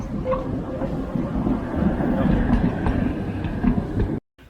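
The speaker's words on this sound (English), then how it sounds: "I think these are such cute little trams." A small tram running on rails on the way up to a monastery, giving a steady, loud, close rumble with faint clacking that cuts off abruptly near the end.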